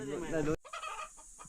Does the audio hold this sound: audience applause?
no